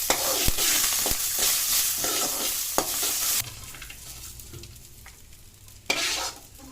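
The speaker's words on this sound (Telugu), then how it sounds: "అదే గిన్నెలో 1 స్పూన్ ధనియాలు, 1 స్పూన్ జీలకర్ర, 2 స్పూన్ల పల్లీలు వేసి వేయించుకొని అందులోనే కరివేపాకు, కొత్తిమీర వేసి వేయించుకొని" Coriander seeds, cumin, peanuts and curry leaves roasting dry in a pan, with a steady crackling sizzle and sharp scraping stirs that drop quieter midway before a final loud scrape.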